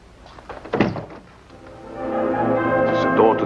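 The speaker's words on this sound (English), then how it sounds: "It's the door to the bedroom." A bedroom door gives a single dull thunk as it shuts, followed by a low, sustained tone beneath.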